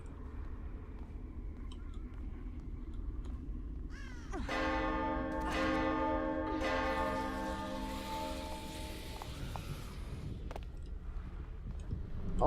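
A struck bell rings out with a sustained metallic tone and a second strike, over a low ambient rumble, during a horror game, The Evil Within: The Assignment.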